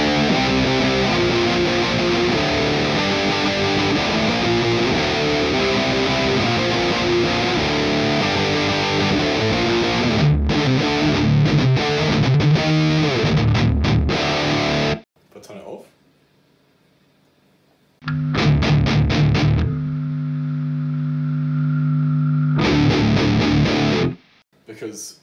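Distorted electric guitar through an Orange Rockerverb MKIII tube amp with the reverb disengaged, thick and saturated, plays loud chords, cuts out to near silence, then returns in bursts before stopping again.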